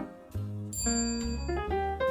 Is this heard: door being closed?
no